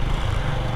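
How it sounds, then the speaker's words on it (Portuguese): A motorcycle engine running rough and sputtering on a dead-end residential street in Palmas, Tocantins, a steady low rumble close by with no talk. "Até a moto falhou."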